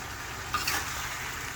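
A steady, close sizzle of catfish frying in hot oil, with a couple of brief crackles and spits rising over the constant hiss.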